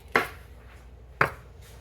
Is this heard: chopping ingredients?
yes